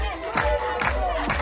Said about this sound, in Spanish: everybody, clap, clap, clap your hands